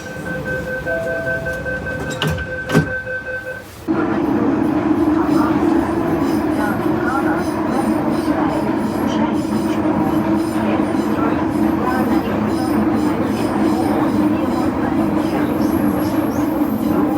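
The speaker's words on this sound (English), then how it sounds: "Train doors closing." A short chime-like tone sounds, followed by a thud as Sydney Metro train doors shut at a city station, then the train's steady rumble fills the space.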